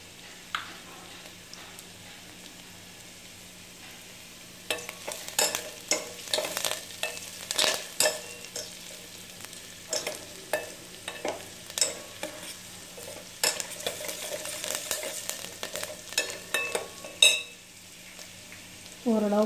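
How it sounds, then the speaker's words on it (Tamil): Onions and chilies sauté in a pan for a simple tomato side dish, a low background sizzle joined by bursts of spatula scraping and stirring strokes in an irregular rhythm, close and clear, without speech. "ஆனியன் கொஞ்சம் வதங்கின உடனே கொஞ்சம் நல்லாவே வதங்கிடணும்"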